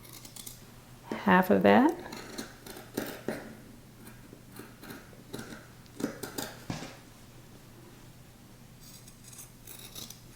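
Scissors snip through fabric, trimming the seam allowance at the back neckline of a summer dress, with a few close, crisp cuts early on and a voice talking briefly.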